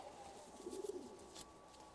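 A rose-breasted crested pigeon gives a short, soft coo, a brief low warbling call in the middle of a faint, quiet background with no one talking.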